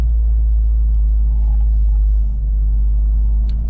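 A 2023 Toyota GR Corolla Core rolling slowly around a parking lot, its engine a steady loud low rumble heard from inside the car with no talking.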